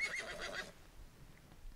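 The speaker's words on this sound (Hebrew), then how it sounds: "מה זה? זה סוס." A horse whinnies in a short burst at moderate volume, then fades into quiet with a faint trailing sound near the end.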